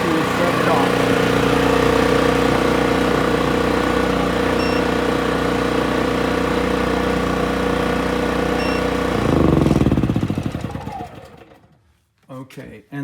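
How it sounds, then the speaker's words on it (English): A portable generator runs steadily with a constant engine drone. Near the end it cuts out and winds down, leaving near silence broken by brief knocks. "I'm going back to the generator to shut it off"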